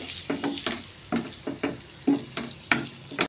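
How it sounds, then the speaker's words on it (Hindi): Eggs frying in a pan for Goan egg masala, with repeated short scraping and stirring strokes over a soft sizzle, close and fairly quiet, no talking. "तें बरें फ्राय करपाचें अशें करून फ्राय जावपा जाय ती"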